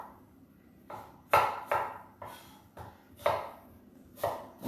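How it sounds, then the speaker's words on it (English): A small onion being roughly chopped with a knife for a fish pie: about seven close, crisp thuds at an uneven pace, some sharper than others, each with a brief ring. No one speaks. "I'm going to take a small onion. I'm just going to roughly chop the onion up."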